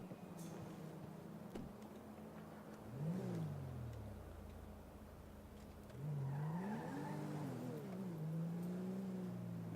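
A custom car in GTA drives and skids, with an engine drone rising and falling in pitch as it revs, and tire squeals layered over the steady motor noise, fairly loud and continuous.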